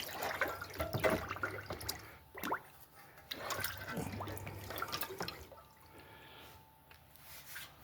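A part from a Suzuki M109R motorcycle head is lowered into a big tub of water-soluble cleaning solution, giving close sloshing, splashing and dripping in several uneven bursts.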